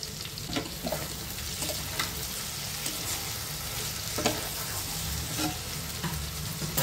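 Mourala fish curry with potato and eggplant, whole green chillies just added, sizzles and bubbles steadily in the pan, close and continuous, with no talking.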